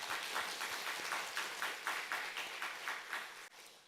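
A church congregation at Singal Methodist Church applauds during a service, producing steady, rhythmic clapping that sounds faint and distant for a few seconds.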